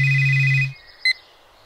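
A telephone rings loud and close for about two thirds of a second, its tone cutting off, followed by a brief high electronic beep as the call comes in.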